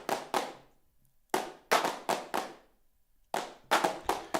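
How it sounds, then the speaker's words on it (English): Clapping sounds generated on a Portatron tape synthesizer, set to six people clapping: loose, uneven bursts of claps in three clusters separated by brief silences, clear and close with no talking. "I'm going to increase the number of people clapping to 6."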